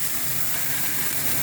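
Steady, dense sizzling of jerk chicken on a hot barbecue grill, close and continuous hiss with no voices over it.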